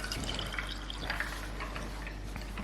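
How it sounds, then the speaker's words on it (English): Sangria pours steadily from a pitcher into a glass, a continuous close liquid splash and trickle with no talking. "Then it's pouring out the sangria."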